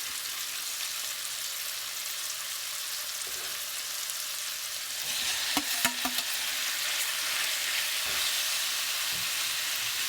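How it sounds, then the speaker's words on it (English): Chopped tomatoes for chana masala fry in a pan over medium heat, a constant close sizzle with a few sharp spoon scrapes and taps midway as they are stirred in, no talking. "After about a minute, add the chopped tomatoes"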